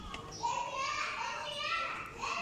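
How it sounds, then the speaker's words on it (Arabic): Children play out in the street, their high voices calling and chattering continuously at a moderate distance, lively and overlapping. "ده صوت الولاد اللي بيلعبوا في الشارع"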